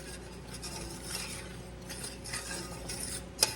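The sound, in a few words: stirring bubbling lime white chocolate fudge in a pot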